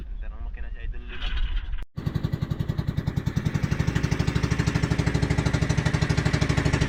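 A small fishing boat engine starts after a brief pause and settles into a loud, fast, regular chugging idle close by, with voices talking over it at the start.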